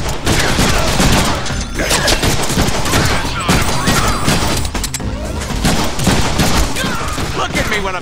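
Dense, loud gunfire in the Deadpool video game, with rapid bursts and automatic fire crackling continuously amid crashing combat noise.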